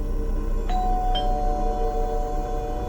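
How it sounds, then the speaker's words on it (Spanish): A house doorbell at night rings a two-tone ding-dong, two clear chimes a half second apart that ring on and fade under a steady low hum. "Tocó el timbre"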